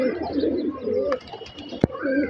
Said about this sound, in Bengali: সবগুলো কবুতর এখনও গোসল করতেছে